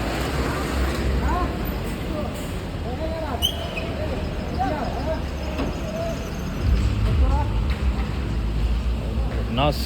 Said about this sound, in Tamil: சரியான டிராஃபிக்ங்க